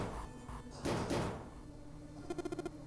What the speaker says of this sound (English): Santa shoved Junpei aside and pounded against the door.